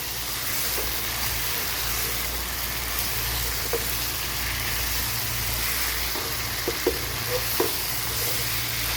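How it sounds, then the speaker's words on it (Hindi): Potatoes and cauliflower frying with spices in a pan over high heat, a steady loud sizzle throughout with a few faint clicks of stirring, no voices. "अच्छी तरह इसको फ्राई करेंगे हम लोग, इसके साथ भुनाई करेंगे इसकी"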